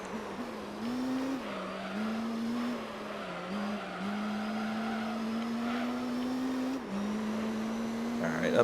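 A race car in Gran Turismo 3 drones steadily at high revs, with pitch shifting slightly across gear changes and a brief tire squeal, while someone talks over it.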